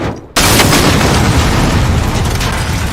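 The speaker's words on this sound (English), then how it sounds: "some more explosions there to make you a little bit more excited." Sound effects: a sudden loud boom breaks a brief quiet, then a dense, rumbling roar of explosions fills the rest, staying loud throughout.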